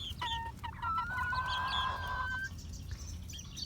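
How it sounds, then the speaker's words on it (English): A young rooster crows once, a thin, stretched-out call that rises and wavers, with clucking hens and faint rustling around it. "He is crowing."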